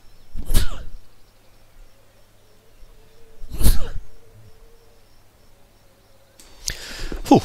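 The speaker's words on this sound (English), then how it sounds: "It's just a couple of sneezes jumped in there." Two sharp, loud sneezes burst out a few seconds apart against near silence, followed by a third noisy burst at the end.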